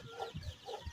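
Native hens and week-old chicks cluck softly at close range in a coop, a few quiet low clucks over a brief second.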